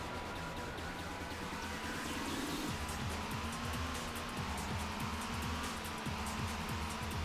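Car engine from the PlayStation racing game C3 Racing: a steady, droning motor hum that shifts pitch as it revs, heard continuously and fairly loud over game sounds, with no talking.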